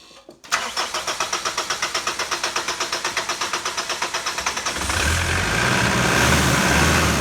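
Mitsubishi Pajero engine starting after a manifold clean: a long run of rapid rhythmic cranking pulses, then the engine catches and settles into a rough, loud idle.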